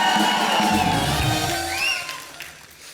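Studio audience at a comedy talk show applauds and cheers to welcome actress Waheeda Rehman, a dense, steady wash of clapping with scattered whoops that swells early and slowly eases off, with no voices talking over it.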